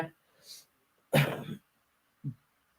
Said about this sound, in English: I still have a major bad cough.